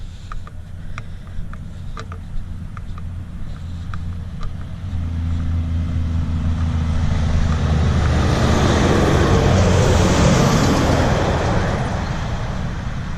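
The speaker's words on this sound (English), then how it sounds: "I just love the sound of Jake brakes, especially 2 o'clock in the morning as they roll into town." Truck engines and exhaust braking rumble on a road into town at night, a low heavy drone that swells and builds over several seconds as vehicles roll closer, with broad traffic noise and no voices.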